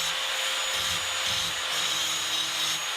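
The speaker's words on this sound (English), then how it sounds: "I'll clean up the ends just a little bit with the grinder" An angle grinder cleaning up the cut ends of steel files, a steady loud high-pitched grinding whine held continuously and close up, with no speech.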